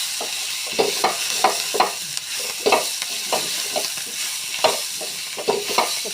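Chopped onions fry in a pan for an egg curry with chilli powder, a hiss broken by regular scraping stirs about every half second.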